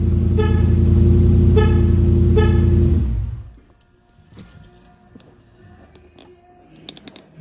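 The horn of a 2007 to 2018 Jeep JK with a Hemi engine sounds as one loud, close, sustained honk of about three seconds after the remote lock is pressed, then cuts off to quiet ticking and faint handling noises.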